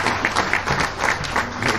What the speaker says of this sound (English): A round of applause for Honorable Minister.